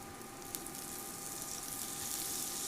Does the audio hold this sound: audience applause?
no